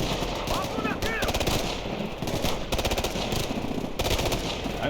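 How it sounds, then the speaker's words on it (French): Light machine gun fire chatters in the video game Ghost Recon Future Soldier, with repeated rapid bursts, loud and sustained, alongside other gunfire and battle noise. "Mitrailleuse légère."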